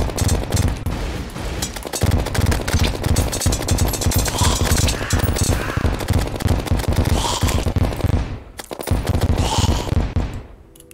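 Bombs explode over and over in Terraria, hardcore master mode, a dense barrage of rapid booming blasts and crackling impacts that runs almost without pause, loud and close, with a brief gap near the end.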